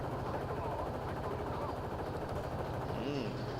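Aircraft cannon fire in War Thunder, from a P-63 fighter, rattles in rapid bursts under steady engine drone while someone talks over it throughout.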